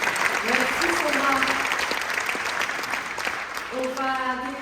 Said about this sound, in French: Bravo, j'applaudis.